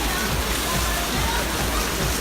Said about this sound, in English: Rain is intense.